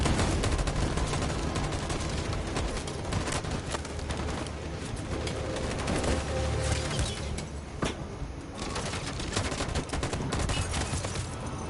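Dense, sustained gunfire fills a firefight in Detroit: Become Human, with rapid overlapping shots and bursts running continuously and loudly throughout, no talk over it.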